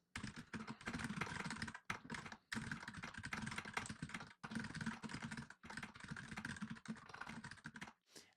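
Rapid typing on a computer keyboard during a typing speed test, a dense run of close, fairly loud key clicks in continuous bursts with a few brief pauses, no voices.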